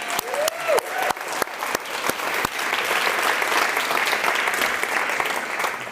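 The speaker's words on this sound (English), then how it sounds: "I think you deserved a big round of applause." Audience applause at a European Year of Youth apprentices event, a few early separate claps swelling into steady, dense clapping from a full room for several seconds.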